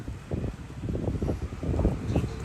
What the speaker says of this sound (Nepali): मिठा हावा चलिरहेको छ